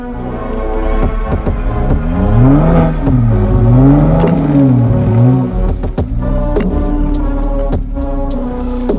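Jeep JL Rubicon stuck off-road, its engine revving in rising and falling surges as the wheels spin while backing up, loud and close with occasional clatter and no talk.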